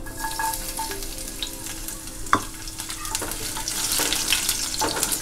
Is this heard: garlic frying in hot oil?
yes